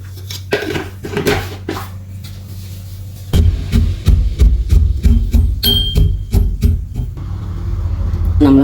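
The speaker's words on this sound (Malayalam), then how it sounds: "ഇത് നമുക്ക് ഒന്ന് ക്രഷ് ചെയ്തിട്ടെടുക്കട്ടോ." Kitchen clatter comes first, then an electric mixer grinder starts crushing two spoonfuls of pistachios for an energy drink: a loud, throbbing motor hum with rattling that runs to the end.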